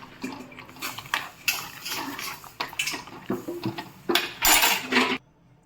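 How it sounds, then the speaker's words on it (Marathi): Rice tipped into hot oil in a kadhai for pulao, a run of sharp sizzling crackles and grainy rattles in uneven bursts, loudest near the end before cutting off. "आता आपण तांदूळ टाकून घेऊयात."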